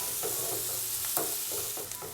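Onions sauté on high flame in a pan, a close, steady sizzle broken by light scraping stir strokes at a loose rhythm.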